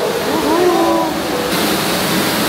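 Indoor waterfall at teamLab Planets gives a steady, close wash of rushing water that fills the whole moment, with faint voices murmuring beneath it.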